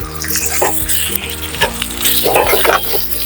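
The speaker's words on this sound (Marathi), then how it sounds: "लसूण मिरची जिरेचा छान परतल्या येतात" Garlic, chili and cumin sauté in a hot pan, a continuous close sizzle broken by occasional scraping stirs.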